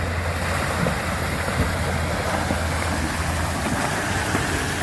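River water rushes during a vehicle crossing of the Humphrey River, a steady, dense roar with low engine rumble underneath, loud and constant throughout.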